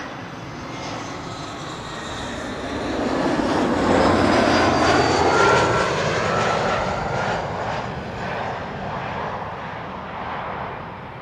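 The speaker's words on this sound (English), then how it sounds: "This is KLM flight 1762, arriving from Bremen in Germany," A KLM Embraer 175 airliner arriving at Amsterdam Schiphol, its engine roar swelling to a broad, loud peak mid-pass and then fading slowly as it moves away.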